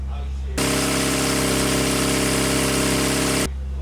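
A Classic Mini 1380 engine is revved under throttle, rising from a low idle into a loud, steady drone for about three seconds before dropping back to idle.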